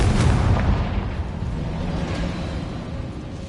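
A Confringo explosive spell is cast in a wizarding video game, a heavy, booming blast with a deep rumbling low end that hits at the start and then slowly decays into a rolling rumble, with no talking.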